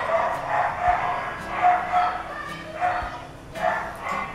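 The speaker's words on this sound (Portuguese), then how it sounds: "Os cachorros sempre aparecem no vídeo, então relevem" A dog barks repeatedly in short yappy bursts, several barks spaced about a second apart, fairly close.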